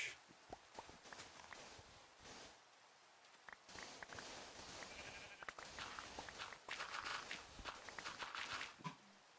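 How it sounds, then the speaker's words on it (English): Sheep bleating in the video game Minecraft, mixed with footsteps and rustling movement throughout, with bleats recurring close by. "The sheep wants to be included."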